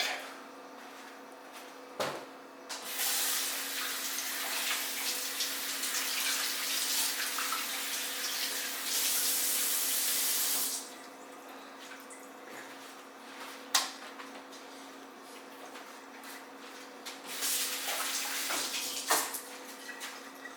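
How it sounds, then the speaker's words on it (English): Tap water rinses a raw pork shoulder in a sink before smoking, a steady rushing flow running through most of the stretch with a louder burst midway and brief knocks and clatter in between. "And we're going to rinse off the meat really quick."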